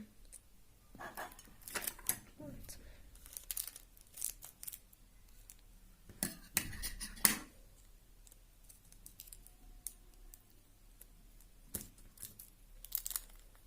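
Adhesive tape is pulled, torn and pressed down while a quarter-coin bracelet is made, giving scattered crinkling rips and sharp snaps at close range against a quiet room.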